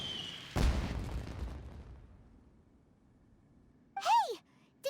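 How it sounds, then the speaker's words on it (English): A broad, booming explosion in the game Genshin Impact bursts out loud and close, then its rumble decays over a second or two, followed later by a short rising-and-falling whistling sound. "Did you hear that explosion?"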